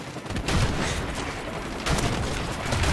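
Shotgun blasts from Call of Duty 4: Modern Warfare Remastered, two loud, close booming shots with a noisy tail in between, sounding alone with no talk.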